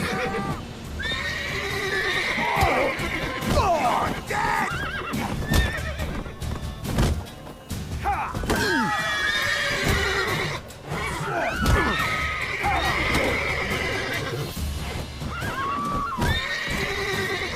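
A horse neighs and whinnies repeatedly over clopping hooves and busy background sound, loud and close throughout, in the video game The Witcher 3: Wild Hunt.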